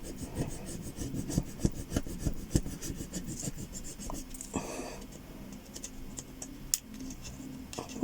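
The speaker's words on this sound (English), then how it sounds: "now we're going to use this lolly stick and we're going to rub" A wooden lolly stick rubs back and forth over transfer tape in quick, close scraping strokes with sharp clicks and taps, continuous and fairly loud with no talking.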